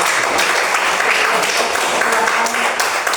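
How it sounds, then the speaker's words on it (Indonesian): A classroom of students applauds a group returning to their seats, a steady burst of many hands clapping at close range for a few seconds with faint voices mixed in. "sekali lagi tepuk tangan untuk kelompok 1"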